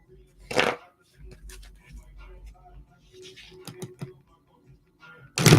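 Reading cards shuffled by hand in a few dry riffling bursts and soft flicks, close to the mic, with a louder burst at the start and end and light talk in between.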